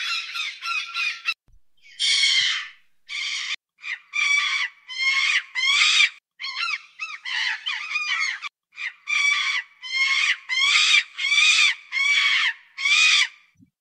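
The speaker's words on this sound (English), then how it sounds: "This sounds more like a chicken than a crying bird." An AI-generated crying bird sound effect that sounds like a chicken, with a rapid series of loud, harsh squawking calls repeating in short bursts one after another, with no voices.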